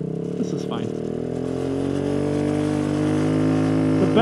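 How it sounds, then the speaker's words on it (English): A Honda Ruckus scooter fitted with a swapped Honda Helix 250cc engine accelerating, its steady buzzing drone rising gradually in pitch, loud and close, with faint traffic noise in the background. "The best part about this bike is the acceleration."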